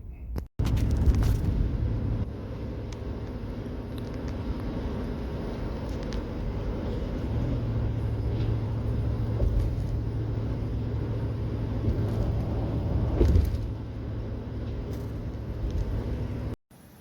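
Steady interior road rumble of a car driving on the highway toward Kentucky, a continuous low drone with constant level, one brief louder swell near the end, no talking.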